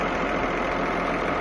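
A Caterpillar D6N LGP bulldozer's diesel engine idles steadily at close range, a dense, even rumble with no pauses and no voices.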